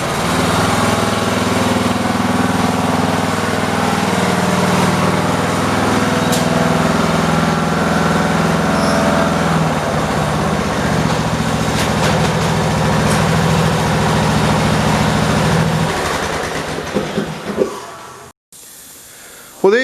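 A new Poulan Pro 300 EX lawn tractor engine runs steadily and loudly, a continuous droning hum that holds for most of the stretch before cutting off abruptly near the end.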